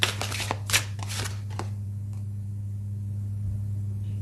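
New tarot cards being shuffled by hand, a few quick crisp riffling bursts in the first two seconds, then only a steady low electrical hum.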